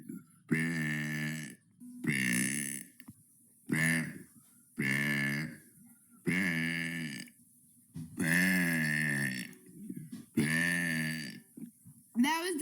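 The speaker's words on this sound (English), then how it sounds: "That was day 64 burping for 100 days." A long series of loud, drawn-out burps, about seven or eight voiced belches each lasting around a second, separated by short pauses and heard up close.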